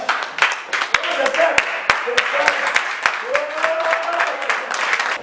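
A church congregation applauds in rhythmic, steady claps under a loud voice leading praise, with a reverberant crowd murmur around it.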